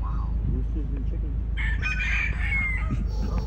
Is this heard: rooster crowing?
yes